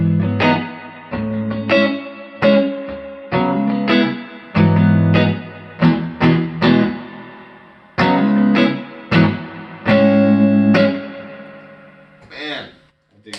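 An electric guitar plays distorted chords and stabs through a spring reverb pedal, each ringing out with a splashy, springy reverb tail, ending in a wobbling echo.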